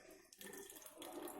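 Water pours steadily into a lab wash bottle, a soft continuous splashing and trickling that fills the short stretch, faint and with no talking.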